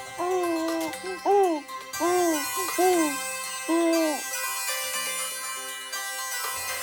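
A phone ringtone plays a melodic tune of repeated rising-and-falling tones, loud and close, with a bright sustained jingle continuing afterward.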